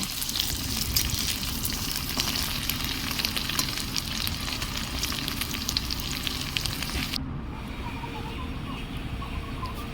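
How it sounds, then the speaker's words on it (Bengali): Paneer pieces frying in oil until browned make a continuous, close sizzle and hiss that cuts out abruptly near the end, leaving a quieter background. "পনিরগুলো লাল লাল করে ভেজে নেব।"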